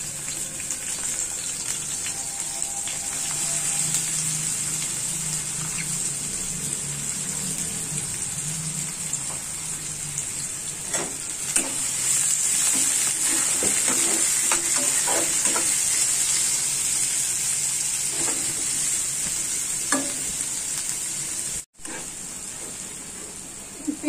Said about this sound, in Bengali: তেলটা গরম হয়ে গিয়েছে, এখন পেঁয়াজ কুচি দিয়ে দিচ্ছি